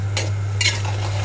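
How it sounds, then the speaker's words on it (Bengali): Bottle gourd curry is stirred in a pan, with two quick scraping strokes over a low steady hum and faint sizzle, close by and without talk. "এখন আমি লাউ তরকারিটা ভালো করে নেড়ে চেড়ে রেখে দিব"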